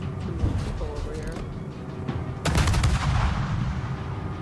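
Naval guns firing during a World of Warships battle against an enemy cruiser, with a loud heavy salvo crashing in midway over steady engine and sea rumble and faint game sounds.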